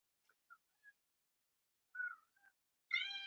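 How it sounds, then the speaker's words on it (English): A cat meows softly in short, faint, scattered chirps, then lets out a louder, fuller meow at the end in an otherwise quiet room. "meowing like crazy"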